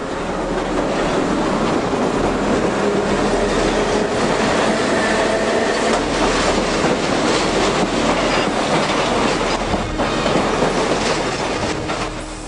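Two half-trains of series 166 Berlin S-Bahn electric units meeting at Bahnhof Zoo in the mid-1970s, with steady loud rolling rumble, rhythmic wheel clatter over rail joints and faint squeal, continuous throughout.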